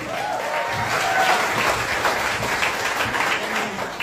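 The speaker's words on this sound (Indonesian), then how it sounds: "Aplaus dong" An audience at a campus discussion event in Indonesia applauds and cheers for several seconds in a dense, sustained wash of clapping, with crowd noise and faint voices underneath.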